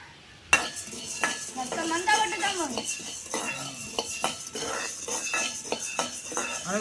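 Kitchen knife work during home preparation of Aadi koozh, with repeated close clinks and taps of metal on utensils and dishes in an irregular rhythm, fairly loud, with no talk over it.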